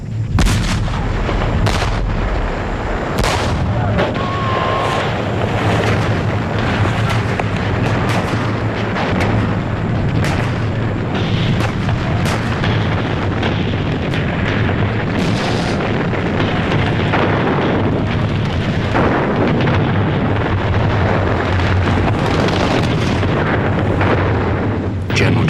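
Heavy artillery pounds away during the 1954 assault on the French stronghold at Dien Bien Phu, with repeated booming blasts and bursts over a continuous rumbling roar for the whole stretch.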